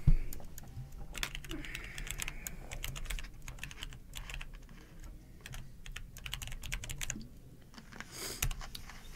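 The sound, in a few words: typing on a computer keyboard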